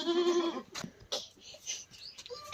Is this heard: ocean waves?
no